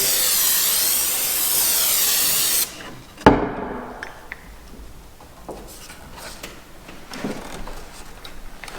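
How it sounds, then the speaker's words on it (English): A steady hiss of CA glue activator spraying over a crown molding joint for a few seconds, then a sharp knock followed by quiet handling and scraping noises nearby. "Then we'll spray"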